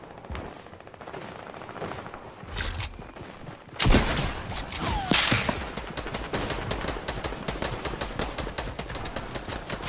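Rapid gunshots from the flintlock pistol and other weapons in a Roblox Arsenal match, a dense crackle of sharp reports that grows louder and more crowded midway and keeps up steadily to the end.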